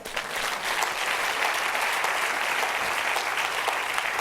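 A church congregation applauds steadily and loudly in praise during a sermon, dense continuous clapping from many hands throughout with no voices standing out.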